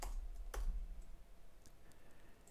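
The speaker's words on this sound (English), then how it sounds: "So what I will do is I will type python main.py," Typing a command on a computer keyboard, a few sparse key clicks with a sharper tap early and faint clicks later, quiet and close.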